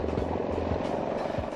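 A Hughes helicopter flying, heard as a steady, continuous rotor and engine drone with faint rhythmic blade thumping, fairly close and alone.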